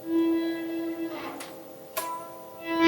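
An electric guitar in a metal lesson sounds sustained tones, swelled in on the volume control, a steady note fading in and out with a few picked accents; close and clear, without voices.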